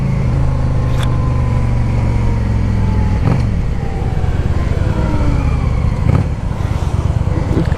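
A 2010 Yamaha V Star 650 cruiser motorcycle holds a steady, loud engine drone at highway speed, its low rumble continuous with brief gear-shift dips and wind noise throughout.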